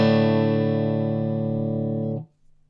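A clean electric guitar note rings through a pedalboard with a Dapper M Mini in the chain, sustaining steadily for about two seconds, then cutting off sharply, with a faint low hum left behind.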